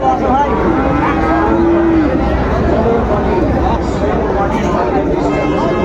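A Sahiwal bull at a busy cattle market in Narayanganj gives a low drawn-out moo amid steady crowd hubbub and chatter from traders and buyers.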